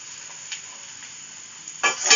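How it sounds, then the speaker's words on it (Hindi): Vegetables for pasta sauté in a pan with a soft, low, continuous sizzle, then a louder scraping stir bursts in at the end. "सौते करना है"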